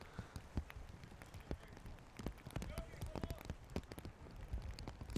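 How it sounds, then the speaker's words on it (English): Heavy rain pours down during an outdoor men's college soccer championship quarter-final in Vaughan, a steady broadband hiss with scattered sharp splats and thuds, while commentary and crowd voices carry over it. "We got some more heavy downpour here in Vaughan."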